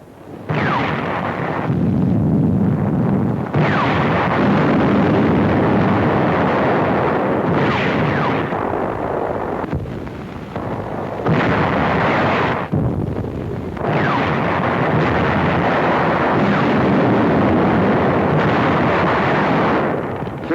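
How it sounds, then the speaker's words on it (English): A World War II tank battle in Tunisia rumbles with heavy, sustained explosions and gunfire, loud booming blasts and rolling roars overlapping almost continuously with brief dips between. "November the 25th, the first real tank clash."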